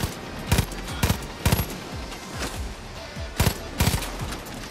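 Gunshots from a weapon in Far Cry New Dawn, loud, close sharp reports in short bursts of two or three with pauses between, over a low rumbling game background with no voices.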